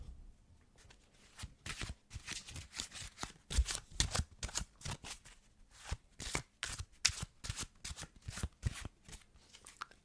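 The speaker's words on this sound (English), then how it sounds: "overhand shuffle" A deck of cards shuffled by hand, a rapid irregular run of soft papery slaps and riffles continuing steadily, close and fairly quiet.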